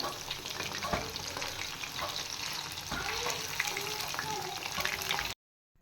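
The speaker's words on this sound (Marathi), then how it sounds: "इकडं अजून तळतं आहे" Chicken 65 pieces frying in hot oil, a steady close crackling sizzle that runs without a break before cutting off abruptly at the end, with faint voices in the background.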